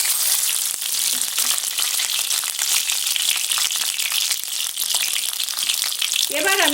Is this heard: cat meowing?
no